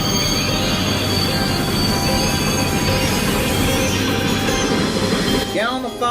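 Runaway freight train on the Cajon Pass, its overheated wheels glowing hot, sending a continuous loud grinding squeal and rumble that holds steady, then fades near the end as a few tonal chirps rise.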